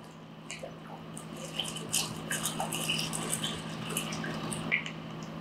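Measured water poured over dry pasta in a pot during a cooking demonstration, a soft continuous trickling and dripping splash lasting several seconds, close and fairly quiet over a low steady hum.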